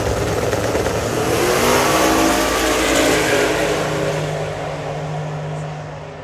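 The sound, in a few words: race cars driving down the track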